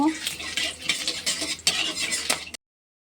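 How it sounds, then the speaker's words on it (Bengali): Whole cumin, black cumin, bay leaf, cardamom, cloves and cinnamon stirred in oil in a pan, giving scraping and light clinking stir sounds with a soft sizzle for about two and a half seconds before silence. "এবার ওই তেলে আস্ত জিরে কালো জিরে তেজপাতা এলাচ দুটো লবঙ্গ একটু দারচিনি দিয়ে ভালো করে একটু নেড়ে নেব"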